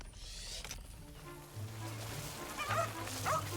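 A small hat-wearing dog in the video game The Eternal Life of Goldman gives a few short yips and barks over a low, droning game soundtrack, heard at moderate level.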